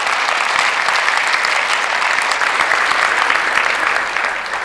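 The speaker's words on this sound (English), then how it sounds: "So would you applaud again and show that that story was funny?" A seated audience at a literary talk and reading bursts into sustained, dense applause, loud and steady for several seconds before easing off slightly at the end, with no voices over it.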